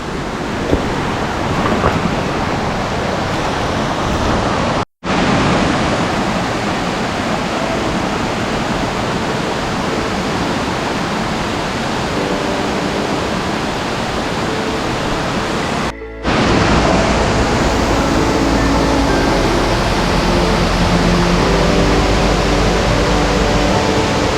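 Loud, continuous rushing of a fast-flowing mountain river in the Carpathians fills the whole clip, a dense roar with two brief cuts in the middle.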